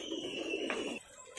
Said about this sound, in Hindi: ये भोपाल के कबूतर है